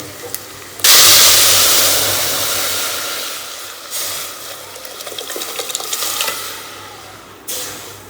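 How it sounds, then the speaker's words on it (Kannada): Tamarind juice and cooked dal poured into frying sambar, setting off a sudden loud hissing sizzle that slowly fades into a steady bubbling simmer, with a second burst near the end. "ಈಗ ಇದಕ್ಕೆ ನೆಕ್ಸ್ಟ್ ನಾವು ಹುಣಸೆ ಹಣ್ಣು ರಸ ಮತ್ತು ಬೇಳೆ ನಾವು ಬೇಯಿಸ್ಕೊಂಡು ಇದ್ವಲ್ಲ ಅದು ಎರಡು ಕೂಡ ಮಿಕ್ಸ್ ಮಾಡೋದು."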